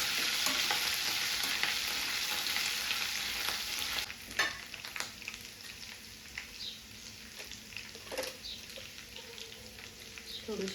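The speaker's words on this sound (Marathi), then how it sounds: "छान मिक्स करून घेऊया मला." Ginger-garlic paste frying in oil in a pan while being stirred, a loud sizzle for the first four seconds that then fades to a quieter crackle broken by scraping spoon strokes, close up.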